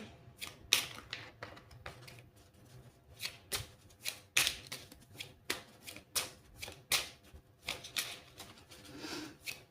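A deck of advice cards shuffled by hand, a close, quiet run of riffling flutters and soft slaps in irregular bursts, with no voices.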